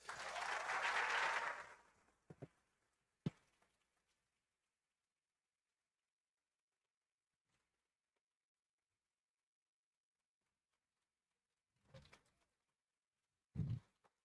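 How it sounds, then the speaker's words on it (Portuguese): An auditorium audience applauds after António Nóvoa's lecture on school transformation and teacher training. The clapping is a dense burst that fades within about two seconds, leaving near silence broken by a few soft knocks and shuffles. "mais do que merecida, esses aplausos merecidos"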